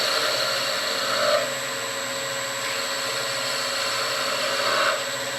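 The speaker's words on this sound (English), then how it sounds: "every time you move this piece of wood, you gotta sand." Steady whirring hiss of a lathe spinning an off-center wood finial while it is sanded, a continuous mechanical drone with slight swells, no talking.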